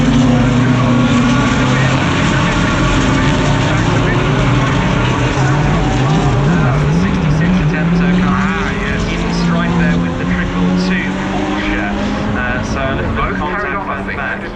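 GT race cars dive into a corner at Brands Hatch in a loud, dense blur of overlapping engine roars rising and falling through the gears, close and continuous, with commentary talk running over the top.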